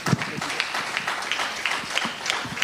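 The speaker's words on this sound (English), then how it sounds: "please give yourself a resounding applause" Audience at a Nigerian youth award ceremony applauds, with a crowd clapping steadily at moderate loudness and some distinct nearby claps standing out, amid a faint murmur of voices.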